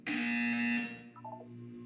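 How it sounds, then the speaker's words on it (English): Buzzer from the Portal video game, a single loud harsh electronic tone lasting under a second, then fading into quieter blips and a low hum. "You will hear a buzzer"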